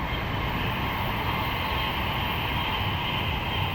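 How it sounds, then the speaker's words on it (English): A Class 390 Pendolino train bound for Manchester Piccadilly on the West Coast Main Line at Tamworth, a steady dense rushing roar of the passing train, loud and unbroken. "Over there we have a Class 390 Pendolino bound for Manchester Piccadilly."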